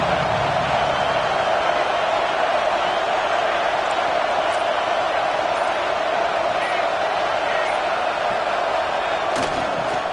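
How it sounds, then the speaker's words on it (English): A large Auburn football crowd at a bowl game roars steadily on third down, a dense, sustained wash of cheering and noise that holds without letup. "This Auburn crowd trying to conjure up a little magic here on third down."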